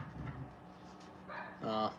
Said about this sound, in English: The dogs are barking nonstop.